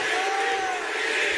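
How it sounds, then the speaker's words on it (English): Crowd chanting DDP for Diamond Dallas Page in the WWE2K19 wrestling video game, a loud sustained roar of many voices with a rising and falling chant tone, steady throughout. "You hear the chants of DDP going out"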